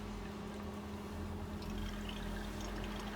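Cashmeran, a liquid perfume ingredient, poured into a container while an oud fragrance is mixed; a steady, fairly quiet trickling stream runs without a break, with a low hum beneath it.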